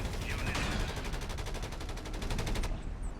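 Rapid automatic gunfire from units in the strategy game Company of Heroes 3, a dense sustained burst of shots that runs continuously and cuts off near the end, loud and close.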